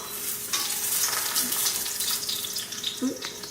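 Food sizzling and popping loudly in a frying pan while eggplant and deer meat are cooked for lasagna, with a steady broadband hiss, sharp pops and stirring scrapes, and brief faint voices in the background.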